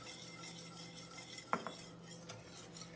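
A whisk works milk into a tater tot casserole mixture in a dish with soft stirring and scraping, and one sharp clink of metal against the bowl stands out near the middle, all fairly quiet and with no talking.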